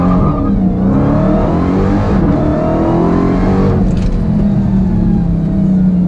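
A Dodge Demon launching hard from a standstill for a 0 to 60 run, with wheelspin, a loud sustained engine roar climbing through revs and gear changes, heard close from inside the car, no talking.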